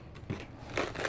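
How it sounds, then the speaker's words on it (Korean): Scissors snip into a twisted balloon-art balloon to let its air out, giving a few short, crisp cuts close by and fairly quiet, with no talking. "가위를 이용해서 바람을 빼주시고요."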